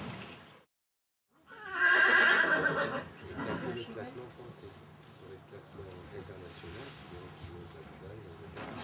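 An endurance horse gives a loud whinny after a brief silence, then quieter sounds follow while a person speaks over the remainder at close range.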